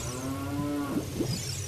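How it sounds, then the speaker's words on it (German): A cow in The Legend of Zelda: Ocarina of Time Master Quest gives one long, steady moo, loud and close against a constant low game hum, with no talking. "Da steht eine ganze Kuh da unten und er säuft nicht."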